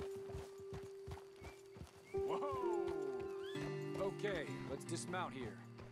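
Horses in the Red Dead Redemption 2 western game, with clip-clopping hooves and several loud whinnies and neighs, some overlapping, over quiet ambience.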